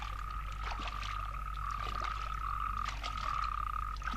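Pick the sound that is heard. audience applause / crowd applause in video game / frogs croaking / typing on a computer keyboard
frogs croaking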